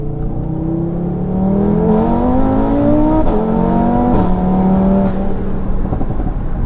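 A 740 bhp Audi RS3 engine revs hard to about 7,800 rpm and climbs in pitch through the gears, loud and close, with a brief dip at each shift and no talking.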